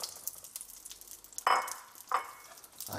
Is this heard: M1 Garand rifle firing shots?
no